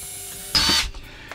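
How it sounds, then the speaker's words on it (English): A power drill bores a hole in a wooden crosscut sled in the workshop, heard as one brief, close whirring burst after a quiet, humming background. "all I'm going to do is drill a hole here"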